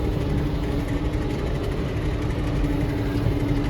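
Steady, loud engine drone of a tractor mowing a grassy farm field, held at an even pitch after moving up a gear, continuous with no pauses and no voices.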